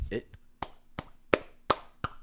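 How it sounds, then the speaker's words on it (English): Hand clapping: about six separate sharp claps spaced unevenly at roughly half-second intervals, close and fairly loud against a quiet room with a faint steady hum. "it's clapping right now"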